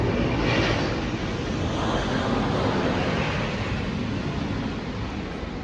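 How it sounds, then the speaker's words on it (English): A broad, steady roar of a departing Southwest Airlines plane's engines, fairly loud and continuous, with rushing wind-like noise and no voices. "looks like one of the planes about to depart"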